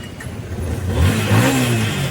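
A car engine that had broken down during a wedding outing turns over and revs up, with a rising mid-pitched roar that swells and holds, loud and close.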